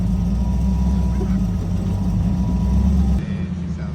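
Loud, steady engine rumble from an LS-swapped Jeep CJ7 while driving, dominated by low, constant drone that drops off abruptly near the end as the throttle eases.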